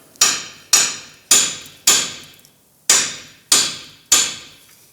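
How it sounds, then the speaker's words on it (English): A hammer striking the lower control arm of a 2001–2007 Ford Escape to free the ball joint: seven sharp metallic blows in an uneven rhythm, each ringing briefly before fading, close and loud. "use a hammer and hit the control arm to pull the ball joint out"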